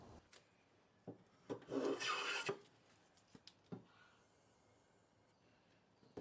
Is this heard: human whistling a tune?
no